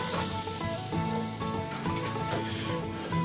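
Butter melting in a pot for jambalaya, a steady close sizzle with faint scraping, continuous and fairly quiet with no voices.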